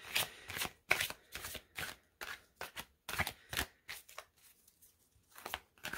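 A deck of tarot cards is shuffled by hand in short, crisp bursts of riffling and slapping, close and clear, with brief pauses between the shuffles.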